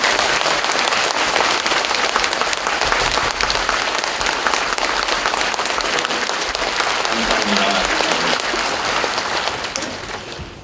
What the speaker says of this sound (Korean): 우리 한기총을 지키신 목사님들에게 우리가 깊은 감사의 박수를 치겠습니다.